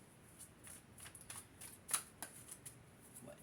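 Tarot cards shuffled by hand in a quiet room, a soft run of riffling and flicking with a few crisper snaps, faint and close.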